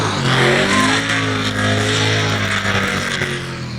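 A race car engine at a speedway revs hard and steady at close range, a loud continuous roar holding throughout.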